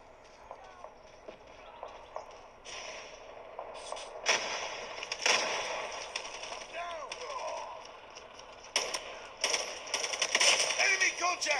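Bursts of gunfire from a mobile shooter game played on a Samsung Galaxy Z Fold 2 come in short rapid volleys that grow busier toward the end, with game voice callouts mixed in.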